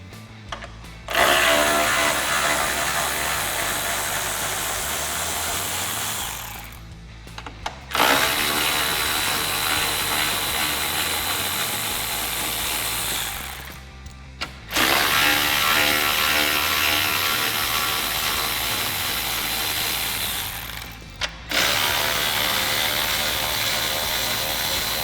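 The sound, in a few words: ratchet with 10mm socket removing F-150 grille bolts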